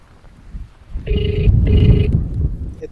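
A phone plays the ringback tone of an outgoing call, two clear electronic ring bursts close by, heard over low rumbling outdoor background noise.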